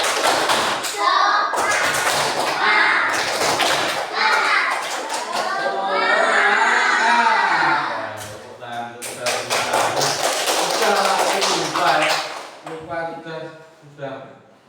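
A class of children performs a rhythmic spirit clap, bursts of patterned claps and thumps alternating with chanted voices, loud and close, with children's talk mixed in.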